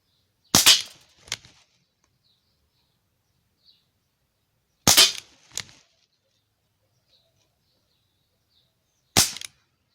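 An Umarex Tornado air gun fires pellets, three sharp loud cracks spaced several seconds apart, each followed by a softer impact snap, close by against near silence.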